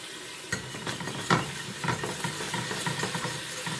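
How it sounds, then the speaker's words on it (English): Rice with oyster sauce stirred in a hot pan, a steady sizzle and frying hiss with scraping spatula strokes every half second or so, close up and continuous. "I'm going to stir it around a little bit."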